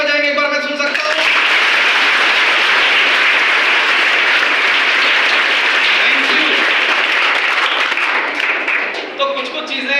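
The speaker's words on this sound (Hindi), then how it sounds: "तो अपने मैनेजमेंट के लिए कैसी तालियां बजाएंगे, एक बार मैं सुन सकता हूं?" A school audience at The City Montessori School breaks into loud, sustained applause, a dense roar of clapping that swells right after a brief spoken prompt and carries on for several seconds before a voice returns near the end.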